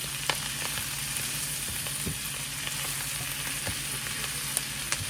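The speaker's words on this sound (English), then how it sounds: "I think we're done on the stir fry on there." Vegetables with carrots sizzle and fry in a pan for a stir fry, a steady close hiss with scattered small pops and stirring knocks, no voices.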